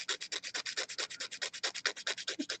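Blending stump rubbed quickly back and forth over colored pencil on paper, a soft, even scratchy swish repeated rhythmically many times in quick succession, close and quiet, with no voices.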